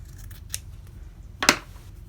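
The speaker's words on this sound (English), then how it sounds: "So maybe I want to take this and I want to cut it down the center." Scissors cutting quilting fabric down the center, two crisp close snips, a light one early and a louder one near the end, over a quiet background.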